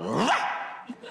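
A comedian in a crosstalk stage performance imitates a dog barking, producing one loud close woof, followed by a short spoken word in a live theatre setting.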